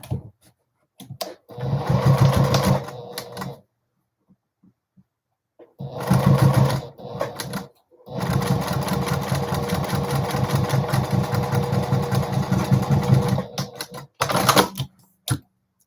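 A Juki TL-2010Q sewing machine stitches through a thick embroidered fabric keyfob in several bursts, each a close, loud rapid mechanical chatter, with short pauses and one longer steady run of stitching.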